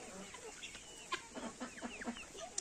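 Chickens cluck and a rooster calls in a short series of uneven, mid-distance bursts over a low farmyard hum; no talking.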